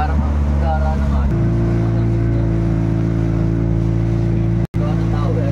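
A loud, steady motorboat engine on a boat in Occidental Mindoro, Philippines, drones close by with a low rumbling hum, briefly cutting out near the end, while people talk faintly in the background.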